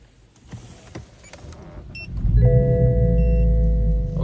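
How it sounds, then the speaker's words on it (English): A pre-LCI BMW E60 fitted with an SMG shifter starts up: a brief whirring crank gives way to a loud, steady idling rumble, with no talking. "So I will start the car."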